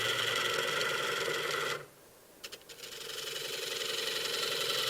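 A wood lathe spins a bowl blank while a gouge hollows the bottom, giving a steady whirring, scraping hiss that drops out briefly with a few light taps before the cutting noise builds again, close and without speech.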